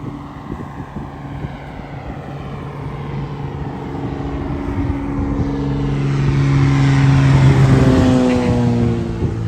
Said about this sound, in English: Oh, that's a plane coming at us.